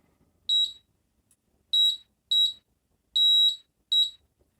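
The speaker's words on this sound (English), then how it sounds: "only beeps for as long as the circuit is actually closed" A PBT fencing buzzbox gives high, piercing electronic beeps in five separate bursts, some short and one held longer, each lasting only as long as the circuit stays closed, with silence between and no voices.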